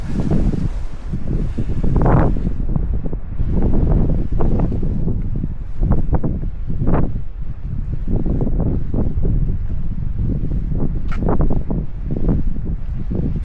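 Wind gusting in Ronda, Spain, in winter, heard as heavy rumbling buffeting bursts against the microphone, loud and close, rising and falling over the whole stretch without any speech.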